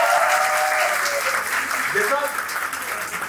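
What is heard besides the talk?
audience applause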